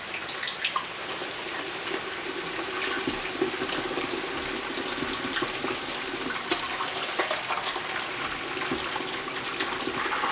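Chicken wings in a pot of boiling water give a steady, dense bubbling and churning hiss that runs for about ten seconds without pause, fairly quiet and close.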